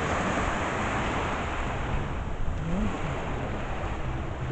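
Steady surf from ocean waves rolls onto Woodstock beach in Negril, Jamaica, a broad continuous wash mixed with wind buffeting the microphone.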